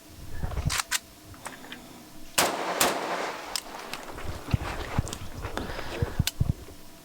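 Sharp, loud gunshots crack one after another at a Finnish two-gun shooting competition, spaced irregularly with quicker follow-up shots, mixed with scattered clicks and shuffling between them and no talking.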